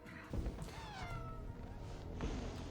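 A cat meowing in a television show, two or three drawn-out meows, fairly faint under a low background.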